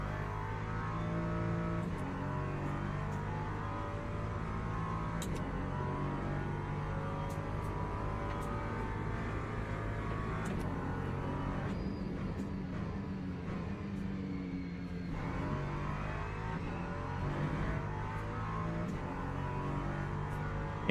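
An LMP3 prototype race car in the Le Mans Ultimate racing game, its engine droning steadily and shifting pitch as it revs up and down through gears, loud and continuous with no voices.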